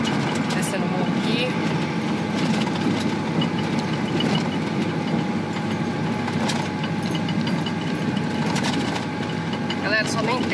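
A Ford F-4000 truck with an MWM diesel engine drives downhill in third gear, a steady low engine drone with mechanical rattles throughout, heard from inside the cab.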